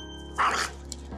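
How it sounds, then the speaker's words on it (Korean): A dog barks aggressively at another dog met on a walk, one short, loud, harsh burst standing out against a quiet background. "산책길에서 만난 개를 보고 격한 반응을 보이는데요"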